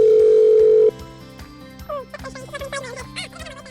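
A loud, steady telephone dial tone sounds for about a second and then cuts off, followed by a quieter run of short beeping tones as a number is dialed, over a soft background of instrumental music.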